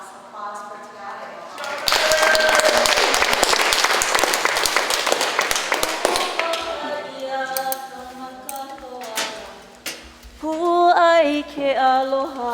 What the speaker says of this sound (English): And one last applause for Tiare.